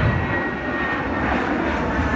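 A Dash 8 Q400 turboprop departing Canberra airport, a loud, steady engine roar that stays strong without pause, no voices.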